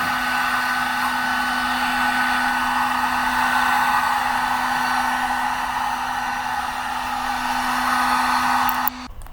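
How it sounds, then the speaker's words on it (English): A heat gun blows with a steady, loud whirring roar and a constant hum, running continuously before cutting off abruptly near the end, warming a 1971 Harley-Davidson Ironhead Sportster XLCH oil tank in a garage. "I should say it's not a hair dryer, it's heat gun"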